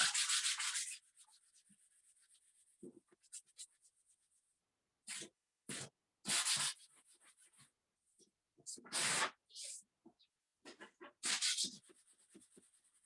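Repeated bursts of scratchy sanding on a painted leather purse, short strokes separated by quiet pauses, close to the microphone.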